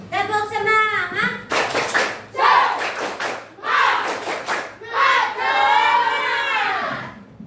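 A school class does a rhythmic clapping chant, the tepuk semangat, with bursts of group clapping alternating with sung and shouted children's voices over several bars, loud and close.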